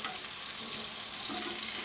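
Pumpkin slices frying in hot oil, a dense, even sizzling hiss that stays steady throughout, close and fairly loud.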